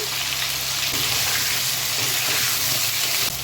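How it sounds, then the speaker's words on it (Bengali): Potatoes with a little turmeric fry in hot oil in a wok, giving a dense, steady close-up sizzle that carries on without a break and with no voices. "এবার কড়ার মধ্যে আমি আলুগুলো ছেড়ে দেবো"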